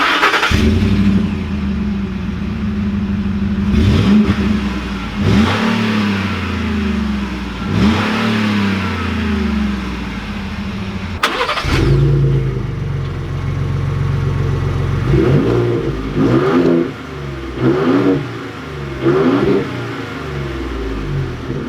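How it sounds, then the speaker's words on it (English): A 2020 Ford Raptor's twin-turbo V6 revs up repeatedly through a throaty exhaust, each rise and fall distinct, sometimes in quick blips, loud and close. "let's roll the exhaust clips and a moment of silence for the twin turbo V6"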